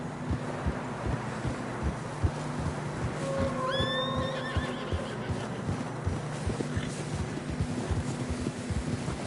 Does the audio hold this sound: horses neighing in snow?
yes